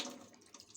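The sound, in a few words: pouring wheat into a pot of water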